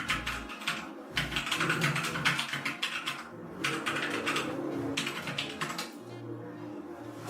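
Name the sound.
typing on RK71 mechanical keyboard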